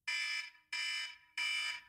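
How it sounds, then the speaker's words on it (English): A podcast segment timer alarm goes off as three loud, identical electronic beeps, each about half a second long and evenly spaced, with nothing else audible around them. "when the alarm goes off"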